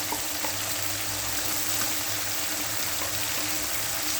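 Chili paste and garlic paste fry in hot oil in a pan, giving a steady, even sizzling hiss throughout, moderately quiet and unbroken by speech.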